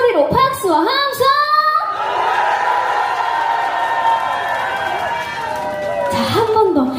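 A large outdoor crowd at a mountain herb festival performance cheers and roars continuously, a broad steady swell of voices after a performer's amplified call, with her voice returning near the end.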